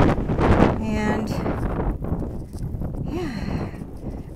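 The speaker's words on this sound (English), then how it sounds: "It is super, super windy" Strong wind buffets the microphone in loud, rumbling gusts on Max Patch, a mountain summit, with a few faint tonal sounds coming through the roar.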